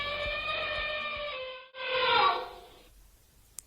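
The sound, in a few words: elephant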